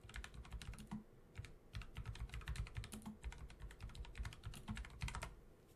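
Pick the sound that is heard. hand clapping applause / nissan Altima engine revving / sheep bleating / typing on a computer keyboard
typing on a computer keyboard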